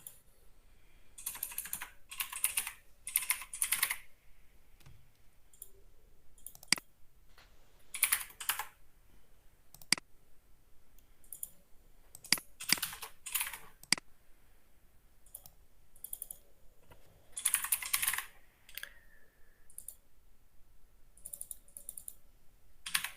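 Someone types on a computer keyboard while entering database attributes, quiet bursts of rapid key clicks with short pauses between.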